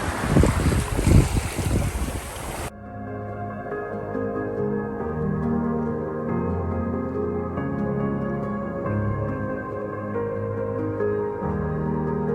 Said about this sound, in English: The wind is slowly building, probably 12 knots now.